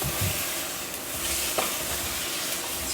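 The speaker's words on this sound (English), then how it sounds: "And then we're going to stir that round." Chicken jus sauce stirred in a hot pan, a steady soft sizzle with faint scraping of the spoon against the metal, continuous and close throughout.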